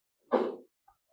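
A single short sneeze, close and fairly loud, followed by quiet.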